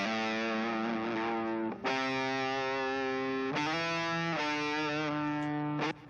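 Dry centre amp electric guitar with a distorted hard rock tone, playing sustained chords that ring out and change a few times, heard alone without voices.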